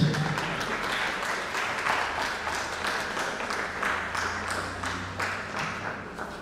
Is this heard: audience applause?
yes